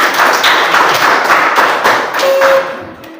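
Classroom applause for a student named Ella during a lesson on triangular prism nets, a dense run of hand claps that stays loud and steady, then thins out toward the end.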